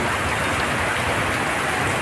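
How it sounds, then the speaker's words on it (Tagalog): Heavy rain pours down steadily, a dense, continuous hiss of drops hitting surfaces with no pauses. "Kasi malakas ang ulan."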